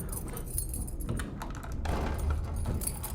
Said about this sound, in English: We only hear the footsteps and clanging of keys